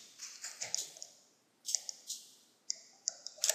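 A computer mouse clicking during 3D modeling work, with quiet, close, sharp clicks coming in small irregular clusters separated by short pauses.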